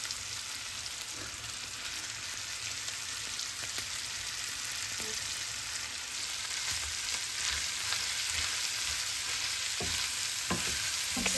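Stir fry noodles and chopped vegetables sizzle steadily in a hot pan while being stirred, with occasional utensil scrapes and knocks over the constant frying hiss.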